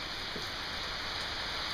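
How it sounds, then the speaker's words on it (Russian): Heavy tropical rain shower in the Maldives pours down steadily, a dense constant hiss of rain drumming on surfaces near a villa. "начался ливень"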